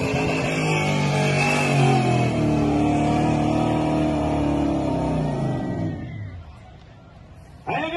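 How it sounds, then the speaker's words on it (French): Toyota Tundra pulling truck revving hard at a truck pulling event, a loud sustained engine roar with pitch rising and falling before fading out, with an announcer's voice over the noise. "Alors, en piste, avec son Toyota, voici Pascal Amiro!"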